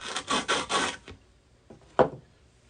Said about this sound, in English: I'm going to finish the scoring along the edge here